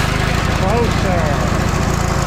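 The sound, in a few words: 1998 Ranger bass boat engine running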